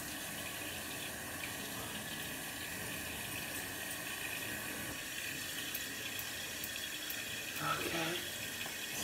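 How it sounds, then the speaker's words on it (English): Water runs steadily from a bathroom sink tap while a face is wetted, a soft continuous hiss with faint splashes near the end. "So I'm gonna wet my face."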